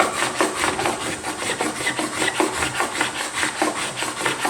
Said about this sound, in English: you just scrape them, rotate your scraper